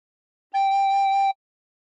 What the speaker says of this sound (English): Put fingers 1 to 3 on holes 1 to 3 and blow once.